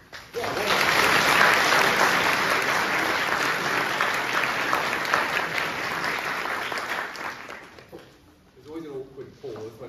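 A school sixth form open evening audience breaks into loud, full applause after musicians finish playing. The clapping swells quickly, holds dense and sustained, then fades out as a voice begins speaking.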